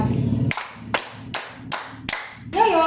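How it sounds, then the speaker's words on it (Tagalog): Five sharp, evenly spaced claps from a classroom of pupils rewarding a correct answer, ringing out together and loud over brief chatter at the start and end. "Bigyan natin ng 5 palakpak si Gladys."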